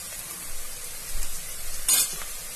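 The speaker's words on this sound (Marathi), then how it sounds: "आता आपल्याला हा कांदा लाल होईपर्यंत असा हलवत राहायचा आहे" Onion frying in a pan for vatana soybean masale bhat, a soft steady sizzle broken by louder scraping and clinking as it is stirred, a sharp clink near the end, and no talking.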